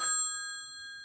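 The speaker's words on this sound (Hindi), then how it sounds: "My phone went of." A mobile phone gives off a single bright ding that rings on with a long, pure, slowly fading metallic tone, clear and alone.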